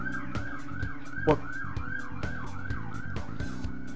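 A wailing ambulance siren passes close by on a street, rising and falling in a steady repeating cycle, and a voice briefly speaks over it.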